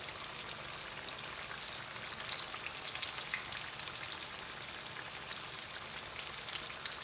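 Jackfruit nuggets fry in a pan with a faint, even hiss of oil, steady and continuous without pauses.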